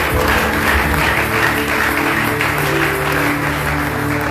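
A church congregation at a Sunday evening service claps together, a steady dense wash of applause that carries on unbroken, loud and near, with a low organ-like hum underneath.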